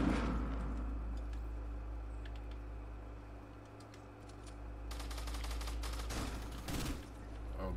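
Fortnite gunfire sounds as a quick rattling burst of shots, fairly faint over a steady low hum, with a denser cluster of cracks near the end.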